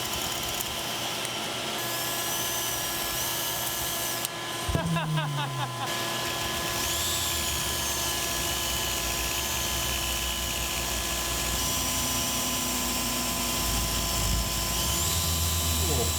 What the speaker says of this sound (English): I'm gonna shape it using my rotary tool